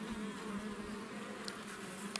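Honey bees hum and buzz densely around hive frames while feeding on sugar syrup, a steady close drone with a couple of brief sharper buzzes near the end, no voices.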